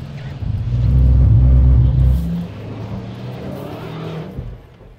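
A medium SUV's engine drones loud and deep at full throttle while climbing an off-road ridge, the strained roar easing to a lower rumble halfway through.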